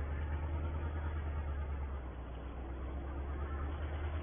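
An Austin A10 carrying a load of sugar beet runs with a steady, droning engine note, a constant low rumble with no pauses or revving.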